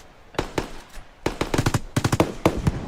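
Explosions rip through buildings in the Roblox game Deadline, a rapid string of sharp blasts in close clusters, loud and layered with crackling debris and no talk over them.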